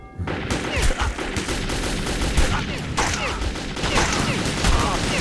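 Rapid bursts of gunfire from the Metro 2033 video game, with dense automatic fire and sharp shots rattling continuously and loudly across the whole stretch.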